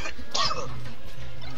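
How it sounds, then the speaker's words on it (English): A single short cough near the microphone, a sharp burst followed by a brief trailing rasp, over a low steady background hum. "Trying not to cough on the mic, sorry stream."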